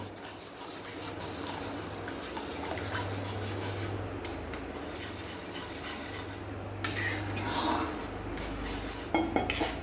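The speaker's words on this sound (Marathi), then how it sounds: "आता आपण ही पेस्ट त्याच्यामध्ये घालून सतत पेस्ट घालत घालत आपल्याला हे ढवळायचं आहे" Gram flour paste is stirred into boiling water in a pot for pithla, with repeated close metallic clinks and scrapes of the spoon against the pot while a dog whimpers and barks nearby.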